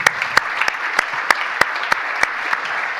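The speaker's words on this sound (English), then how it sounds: "I ask you all to give them a warm round of applause" Audience applauds a panel at a European regulation and growth conference, a steady wash of clapping with several sharp, louder claps standing out, continuous and fairly close throughout.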